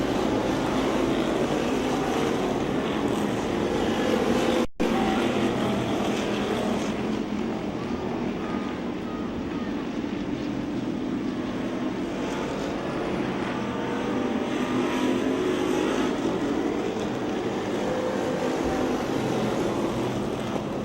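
Race cars lapping a speedway oval, a steady broadband roar of engines and wind that stays loud and continuous throughout, with one brief dropout early on and no talk.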